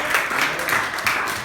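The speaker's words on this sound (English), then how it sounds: "let's give a round of applause to Rachel" A Model United Nations group applauds briefly, giving a soft, moderately distant patter of many hands that lasts only a moment.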